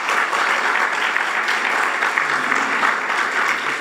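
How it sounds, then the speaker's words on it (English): Dense, steady applause from a crowd of around 430 devotees gathered at a spiritual retreat, a continuous wash of many hands clapping at an even level throughout. "please give yourself a round of applause"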